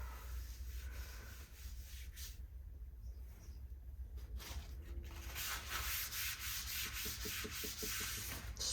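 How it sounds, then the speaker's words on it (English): Wood being sanded by hand, with rough, scratchy strokes that come and go, quiet at first, then louder near the end with a quick rhythmic back-and-forth rubbing. No one speaks. "I'm sanding."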